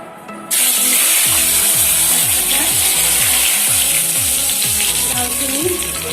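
Marinated chicken frying in a pan for chicken curry, a loud steady sizzle starting abruptly and holding throughout over quiet background music.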